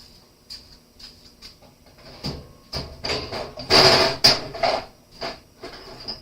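Hammers strike in a home garage in a string of sharp knocks, a few heavier blows clustered near the middle, close and fairly loud over a steady high whine.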